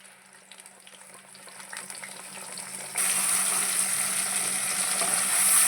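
Ground onion and green chilli paste frying in a pan with turmeric and curry leaves, a steady sizzle that grows louder partway through and holds at a bright, close hiss.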